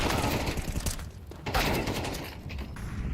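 Dense, rapid gunfire from a Counter-Strike match, including AK rifle bursts, rattles on almost continuously, loud and close, with heavy repeated shots and brief dips in intensity.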